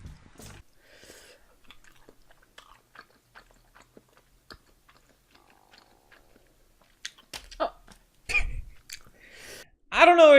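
Mukbang eating of spicy, high-calorie food: quiet close-up chewing and wet smacking bites that come and go, with louder crunchy bursts near the end.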